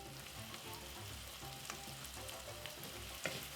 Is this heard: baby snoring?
no